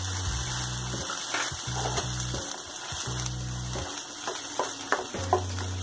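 A paste of ginger, onion and garlic fries in a pan with a continuous sizzle, broken by stirring and scraping sounds and some low pulsing hum; no one speaks.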